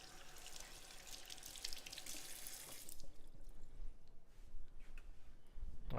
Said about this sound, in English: After dealing with the peppers, I always wash my hands.